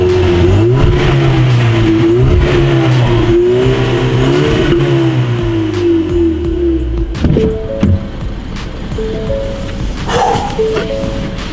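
Standard Ford Mustang EcoBoost, not the GT, revving hard with rising and falling engine pitch, then settling into a rougher, choppier idle with a few throttle blips; loud and close, with no talking.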